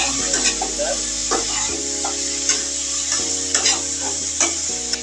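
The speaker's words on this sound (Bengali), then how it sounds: "এটা একটু সুন্দর করে নেড়ে নিব, যাতে মশলা" Bottle gourd peel sizzles in a pan with spices while being stirred, with a constant frying hiss broken by repeated scraping strokes and light clicks.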